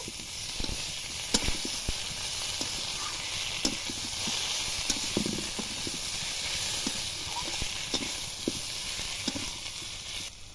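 Cumin paste sizzles and fries steadily in hot oil while being sautéed for a pangas fish curry, a constant close hiss broken by scattered clicks and scrapes of stirring.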